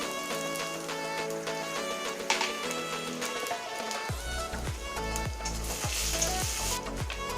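Chopped onion and green chili drop into hot ghee with cumin, mustard seeds and asafoetida, setting off a loud, dense sizzle and crackle that swells as the pieces hit the pan, over a musical backing track.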